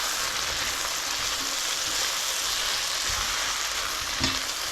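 Mushrooms for a hearty soup sizzling in a pan, a loud, steady, close frying hiss with occasional stirring scrapes and a light clink near the end.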